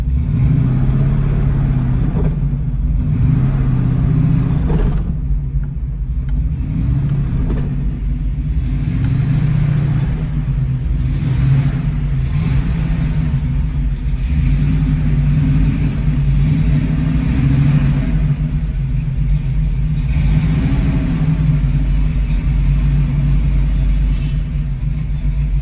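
A 1966 Ford Mustang with a 289 V8 runs and drives after a cold start. The engine note is loud and close, a deep rumbling drone that rises and falls as the car pulls away and the revs change.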